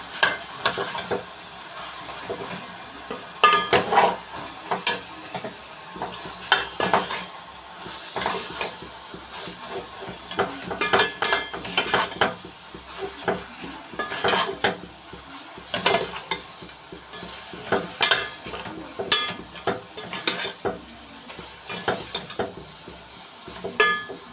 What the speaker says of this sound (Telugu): కారం పసుపు ఉప్పు అంతా ఫ్రై అయిపోయినట్టు ఫ్రై చేసుకోవాలండి